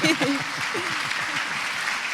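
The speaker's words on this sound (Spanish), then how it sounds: "Un aplauso para Dani, por favor." Audience applause rises as a soft, even wash of clapping at a church gathering, with a voice talking over the start.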